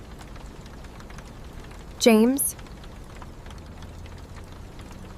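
Heavy rain falls as a steady, dense patter throughout, with a voice briefly calling out a name partway through.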